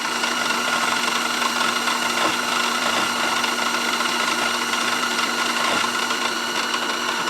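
A mini-lathe with a carbide CCMT/DCMT insert cuts metal at about 1000 rpm, producing a steady, loud, close motor whine and cutting hum that holds even throughout.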